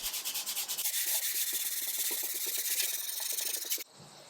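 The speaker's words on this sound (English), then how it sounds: "I did some hand sanding with the grain to make sure there were no scratches on the veneer" Hand sanding with the grain on the wood veneer of a 1930s sideboard makes quick, rhythmic rasping strokes close to the listener, which stop abruptly near the end.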